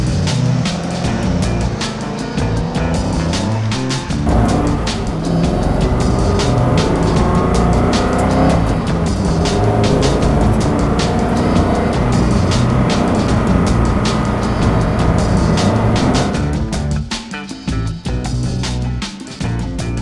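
An Aston Martin race car drives close by at the Nürburgring with a loud, continuous engine roar that rises and falls through gear changes before dropping away near the end.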